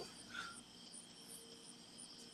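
Crickets chirp continuously in a steady high-pitched trill, fairly faint, with a soft background hiss and no voices.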